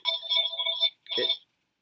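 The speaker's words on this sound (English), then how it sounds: "Is that your phone ringing?" A mobile phone rings with a warbling electronic tone in two bursts, the second cut short, moderately faint, with no talk over it.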